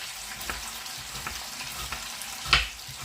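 Meat searing in a frying pan for a skillet dinner, a steady soft sizzle with light stirring taps and a brief sharper scrape near the end.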